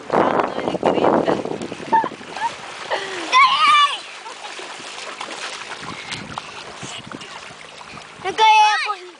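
Children swim and play in salty sea water during a holiday, splashing in loud bursts while they shout, laugh and talk over the commotion.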